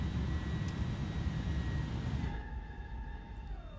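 Airbus A310 in a flight simulator on final approach with flaps and slats extending, a steady jet engine rumble plus a whining hydraulic tone that drops and thins out partway through.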